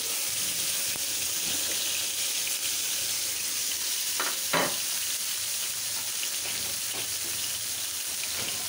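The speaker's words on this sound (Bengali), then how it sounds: "যেগুলো বড় বড় করলা, যেটাকে গস করলা বলে, এভাবে ভাজতে হবে" Large bitter gourd (karela), cut and coated with salt and turmeric, fries in a pan of hot oil, giving a steady close sizzle with a brief louder crackle burst partway through and no voices.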